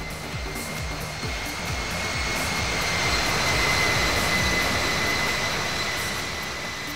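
A Swiss airliner jet in the Infinite Flight game taxis to parking at Paris Charles de Gaulle, a steady whining engine hum with a high tonal whistle that swells slightly midway and holds constant.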